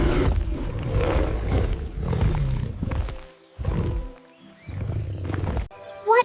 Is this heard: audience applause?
no